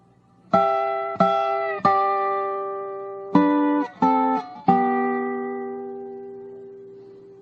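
A dobro plays a bluegrass lick with thumb and finger picks: six bright, ringing plucked notes in two phrases, the last left to sustain and decay alone.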